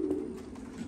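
White grizzle racing pigeons at their home loft give a low, soft cooing, faint and close, with a brief call near the start and quieter murmurs after.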